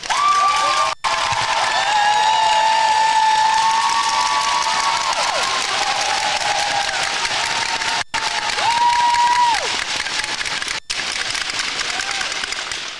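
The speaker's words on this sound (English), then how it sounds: "let's give them a well-deserved round of applause for their efforts both on and off the ice" Crowd applause for the teams at the 2022 Women's World Challenge ice hockey tournament in Green Bay, USA versus Canada gold medal match, sustained loud clapping and cheering filling an arena, with tonal sounds ringing over it.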